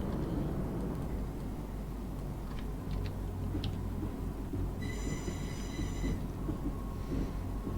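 A Class 319 electric train in the Train Sim 2021 game rumbles steadily along the track with wheel noise, then a brief high squeal rings out, all at a fairly low level.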